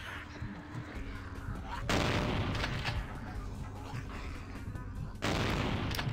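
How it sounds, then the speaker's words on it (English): Gunfire in Vampire the Masquerade: Bloodlines at the Sabbat Headquarters level, with loud bursts of shots that jump in level near 2 and 5 seconds over a dense, rumbling game background. "Is that freaking guy shooting through walls?"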